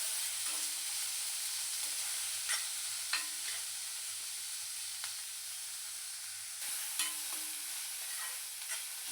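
Onion, peanuts and chopped tomato cook in a pan for baingan bharta, giving a steady soft sizzle with a few brief scraping stirs scattered through, close and moderately quiet with no talking.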